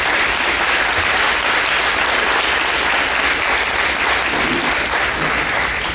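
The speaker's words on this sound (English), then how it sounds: "Let's just give them a round of applause." Breakfast audience applauding for the health department, a dense, loud and sustained roar of many hands clapping that holds steady for several seconds.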